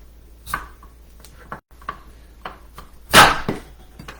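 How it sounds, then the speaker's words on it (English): A Santoku knife slicing the tops off potatoes on a cutting board, several sharp separate chops at uneven intervals, one louder thud near the end, close and without talk. "I'm going to take my Santuco knife and just top off the tops of these because there's a couple of bad spots on here"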